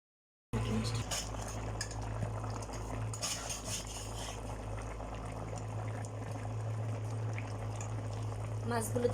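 A pot boiling on a stove gives a steady, close bubbling hiss over a low, constant hum, with occasional faint clinks of kitchenware.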